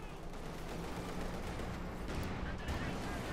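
Gunfire and explosions in Company of Heroes 2, a World War II strategy battle, aimed at a German Panzer 4 tank, heard as dense continuous rumbling battle noise with sharp cracks throughout.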